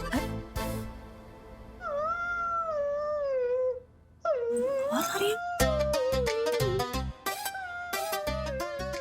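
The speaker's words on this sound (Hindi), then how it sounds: "बिल्ली के रोने की आवाज कहाँ से आ रही है?" A cat yowls in long, wavering, mournful cries, repeated several times over busy background music and sound effects.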